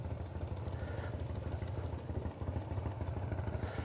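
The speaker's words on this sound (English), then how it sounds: "I hear a distinctive sound of a Harley-Davidson motorcycle pulling in here." Harley-Davidson motorcycle pulling in near a boat launch at a Montana reservoir, a low, steady rumbling engine throb with a lumpy pulsing beat that stays fairly constant throughout, heard at moderate distance.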